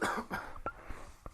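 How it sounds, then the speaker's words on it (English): Someone coughs several times in quick succession, close by, with short harsh bursts and brief pauses between them. "apologize if I am coughing a lot"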